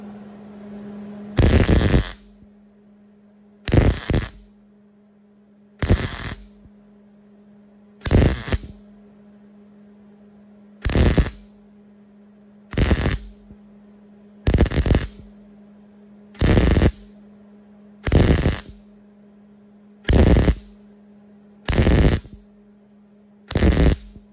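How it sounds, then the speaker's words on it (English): Repeated short bursts of crackling MIG welding as a patch is welded into a rusted rear crossmember, about a dozen evenly spaced stitches each lasting around a second, loud and close, with a steady electrical hum between them. "I'm just gonna get it welded in"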